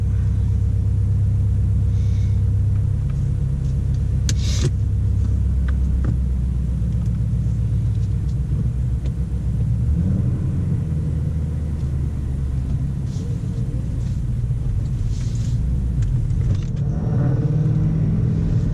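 A 2018-2019 Mustang GT fitted with headers, an intake and a tune, its active exhaust set to quiet mode, idles with a low, steady rumble, close and constant, and a subdued rise in engine note partway through.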